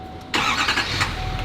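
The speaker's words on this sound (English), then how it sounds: "So first thing I'm going to do is start up the truck." A pickup truck engine cranks and fires up close by, moving straight into an even, rumbling idle with no talking.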